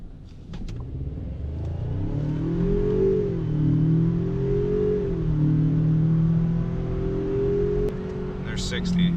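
A 2019 Ford Ranger pickup accelerates hard in sport mode from a rolling start, its engine note climbing steadily through the gears in a loud, sustained rise, with a brief shift dip midway.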